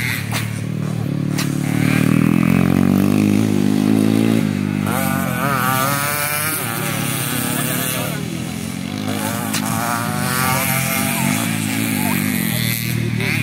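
A grasstrack racing motorcycle revs hard, its engine buzzing and rising through wavering pitch sweeps, loud and close with repeated throttle bursts, while voices are heard faintly in the background.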